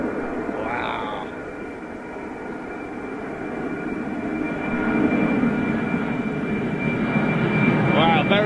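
Airplane departing Gatwick Airport, a loud, broad jet roar that holds steady and builds slightly toward the end, with a brief high whine near the start and spectators' voices faintly underneath.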